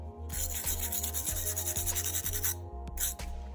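A trolling motor plug receptacle is scrubbed hard to strip heavy corrosion, with fast, rhythmic, close-up scraping strokes that run steadily and then break off into a few last rubs.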